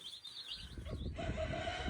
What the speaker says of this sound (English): This little guy just was chirping real loud.